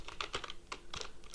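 Code being typed on a computer keyboard, a quick irregular run of sharp plastic key clicks and taps, close and fairly quiet, with no voices.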